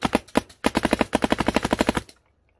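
An Ultra Shocker paintball marker fires a rapid string of around twenty sharp, closely spaced shots in semi-auto, with a short pause after the first few, loud and close, then stops abruptly.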